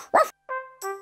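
A cartoon dog from a children's series gives three short barks close up: one harsh yap followed by two clearer, tonal woofs, with nothing else heard.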